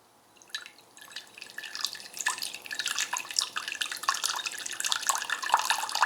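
Water drained from a Vitality appliance, running in a steady trickling, dripping flow that starts faint and grows into a busy, splashy stream of close droplets.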